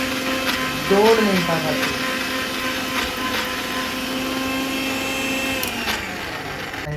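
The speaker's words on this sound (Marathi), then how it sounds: "हा बघा असं मिक्सरला लावून द्यायचं" A kitchen mixer grinder whirs steadily while blending a chicken croquette mixture, its motor hum and whine holding level throughout with a brief pitch wobble early on, as someone talks over it.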